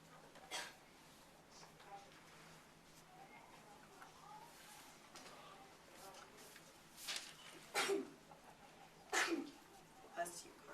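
A person sneezes, loud and sudden, in a classroom during a vocabulary lesson, after a stretch of quiet room noise and faint talk. Two sharp bursts near the end stand out clearly.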